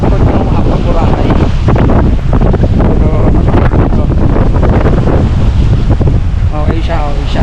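Rough waves at Bulabog Beach, the back beach of Boracay where kitesurfers gather, heard as a loud, continuous roar of surf churned by strong wind buffeting the microphone, with faint voices under the noise.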